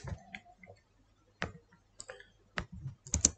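Computer mouse clicks while working in Microsoft Word, a few crisp, close clicks spaced irregularly, ending in a quick double click, over near silence.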